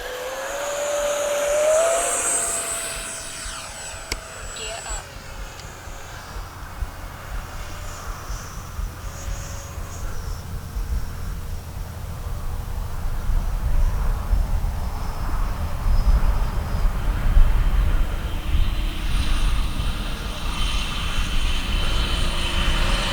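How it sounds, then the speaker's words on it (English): A Freewing Hawk T1 Red Arrow RC model jet with a drop tank flies over a club field, its electric ducted-fan whine rising and falling in pitch as it passes and recedes, then steady, with no speech. "Good flying little jet."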